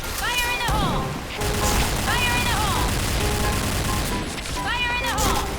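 M4A1 rifle fire in the video game Point Blank comes in repeated loud bursts with brief pauses between them, while someone talks over the shooting.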